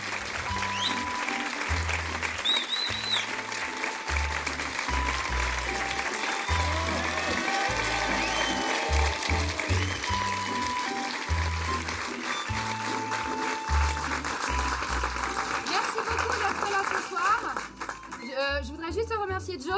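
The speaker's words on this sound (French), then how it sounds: "Applaudissez, voilà, applaudissez et puis partez à un moment donné." Audience applause at a French stand-up comedy show, steady clapping running through most of the stretch, with a voice speaking over it in bursts.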